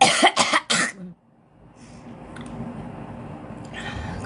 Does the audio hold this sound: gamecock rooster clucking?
no